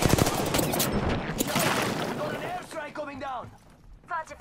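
Gunfire in the Apex Legends video game, dense bursts of shots cracking over a busy battle mix for the first few seconds, then fading as game voice lines and chatter take over.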